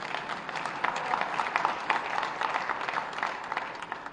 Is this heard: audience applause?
yes